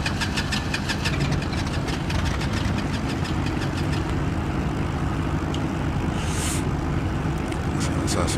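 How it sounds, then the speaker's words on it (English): Twin aircraft engines running in the X-Plane 11 flight simulator, a steady loud mechanical drone with a fast rhythmic pulsing that holds constant throughout. "So that's it, 2 engines started successfully."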